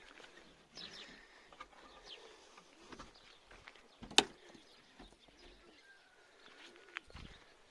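Pigeons on a rooftop make soft, scattered coos and rustles at close range, with faint shuffling sounds, a sharp knock partway through, and a quiet background.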